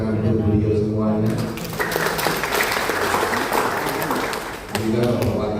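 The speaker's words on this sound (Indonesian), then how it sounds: "tepuk tangan untuk beliau semuanya" An audience at a formal government signing ceremony breaks into loud, sustained clapping that swells and then fades, with an amplified announcer's voice heard before and after it.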